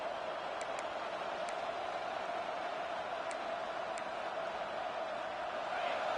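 A dense stadium crowd roars in the College Football 26 video game, a steady wall of massed voices and noise with faint whistle-like bursts breaking through now and then.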